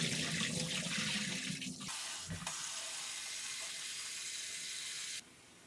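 Beetroot and carrots washed under a running kitchen tap, a steady rushing splash of water that thins and then cuts off near the end.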